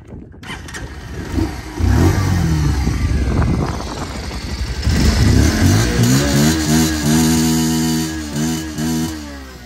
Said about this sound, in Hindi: मैं इसके सेल्फ स्टार्ट को ऑन करता हूँ तो मैं इसकी आवाज़ को सुना देता हूँ एग्जॉस्ट साउंड को